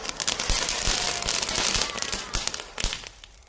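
Firecrackers burst in an evening bonfire, popping and cracking in irregular bursts over a steady roaring crackle, fairly close and loud, with a few sharper bangs standing out.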